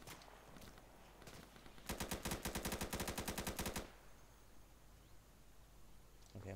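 Burst of rapid automatic gunfire in a military shooter video game, a dense run of shots lasting about two seconds amid quieter background game ambience.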